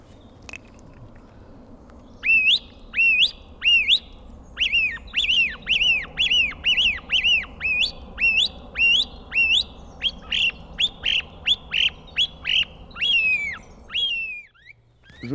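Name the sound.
song thrush call imitated with a bird decoy call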